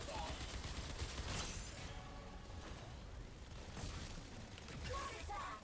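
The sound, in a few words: enhanced weapon shots firing in a video game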